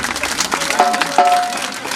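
A crowd claps at a devotional gathering for Meldi Maa, a brief patter of applause mixed with a tonal musical note.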